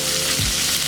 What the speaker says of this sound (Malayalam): നമുക്ക് സവാളയും ഉള്ളിയും അരിഞ്ഞ് വെച്ചത് ഇതിലേക്ക് ഇട്ട് കൊടുക്കാം